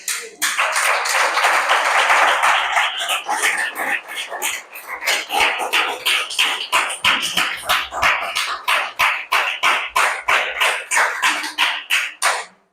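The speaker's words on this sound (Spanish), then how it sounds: "dándole un fuerte aplauso al Señor" A church congregation claps rhythmically in unison to praise during a Spanish-language service, the steady beat of many hands loud and continuous throughout, with some voices mixed in.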